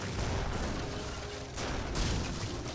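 Heavy cannon fire rumbles through an Age of Empires 3 battle, a continuous din of booms and gunfire with two sharper swells, moderately quiet in the game mix.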